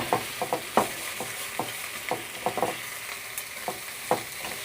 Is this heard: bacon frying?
yes